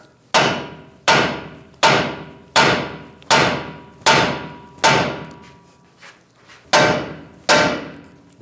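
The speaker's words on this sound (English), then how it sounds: "or just take a hammer, give it a tap." Hammer taps ring out on a 2011-2018 Ram 1500 front ball joint to break it loose, about nine crisp metallic clangs close by at a steady, unhurried pace, with a short gap near the end.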